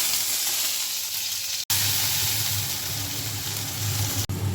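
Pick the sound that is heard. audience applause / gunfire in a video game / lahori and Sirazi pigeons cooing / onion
onion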